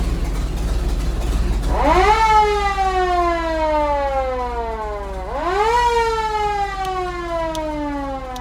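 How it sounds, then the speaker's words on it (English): A 1928 Ahrens-Fox N-S-4 combination fire pumper's mechanical siren winds up twice, each time rising to a loud wail and then slowly sliding down, heard close and alone over a low engine hum. "the siren's here."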